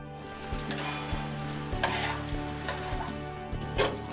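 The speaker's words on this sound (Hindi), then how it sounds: "अब इसमें धोए हुए चावल और दाल डालकर कुछ देर भूनें।" Washed rice and moong dal fry in hot ghee with cumin, hissing in a steady close sizzle. A spoon stirs and taps the pan in regular strokes.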